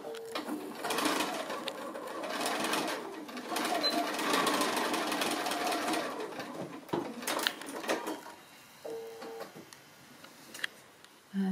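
A sewing machine stitches pieces of a small sailboat pin cushion, running in steady close bursts with brief pauses and a few light ticks as it stops and starts.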